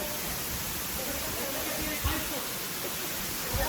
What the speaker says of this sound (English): Let me show you this waterfall here.